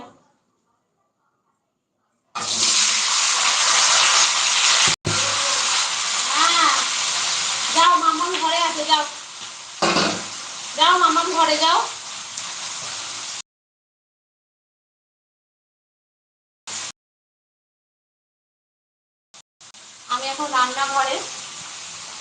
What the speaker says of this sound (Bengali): এই যে দেখো রান্না করছি পটল আলুর তরকারি পাঁচ ফোড়ন শুকনো লঙ্কা দিয়ে পটল আলুর তরকারি